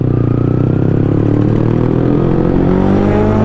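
A new superbike, one of a Kawasaki Z900, Benelli 600i, KTM Duke 390 or Yamaha R15 at a drag race, revs hard and accelerates away, its engine note rising steadily and loud throughout, with no talk.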